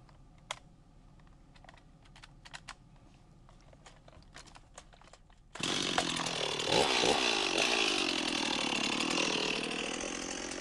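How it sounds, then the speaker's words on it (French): A chainsaw starts up and cuts through a storm-felled tree, a loud, steady, buzzing whine that holds for about five seconds. Before it come scattered clicks and small knocks of handling in a quiet outdoor setting. "Une coupe rapide grâce à la tronçonneuse."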